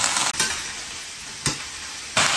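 Green beans and potatoes stir-fried with chopped scallion and garlic in a farmhouse kitchen, giving a loud steady sizzle with a few sharp bursts as the ingredients hit the hot oil and get tossed.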